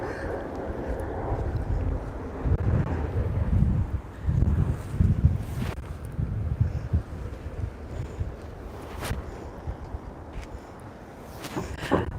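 British Airways plane coming in to land on a runway across the road at Playa de Palma, Mallorca: a distant, rumbling engine roar that swells and fades under heavy wind buffeting on the microphone.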